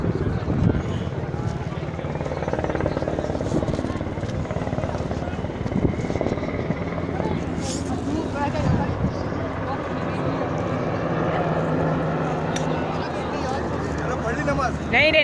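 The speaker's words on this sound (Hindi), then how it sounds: "हेलीकॉप्टर आ रहा है।" A helicopter drones steadily overhead near Masjid Nimrah at Arafat during Hajj, its rotor rumble and engine whine continuous and fairly loud, with wind buffeting the microphone.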